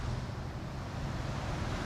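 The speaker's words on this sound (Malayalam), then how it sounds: "ചാലിയാർ പുഴ ഇളകി മറിഞ്ഞ് തിമിർത്ത് പോയിക്കൊണ്ടിരിക്കുകയാണ് കേട്ടോ" Chaliyar river at Oorkadavu bridge, Kozhikode, rushing turbulently in strong flow: a steady, close roar of churning water mixed with wind buffeting the microphone, continuous and without voices.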